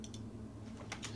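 A few quick keystrokes on a computer keyboard, faint and brief against a low hum, as someone types into a live chat.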